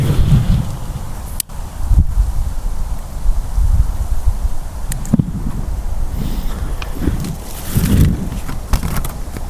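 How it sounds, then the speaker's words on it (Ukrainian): Gusty wind rumbles and buffets the microphone in uneven surges, with a couple of sharp clicks and no talking. "Вітер задуває."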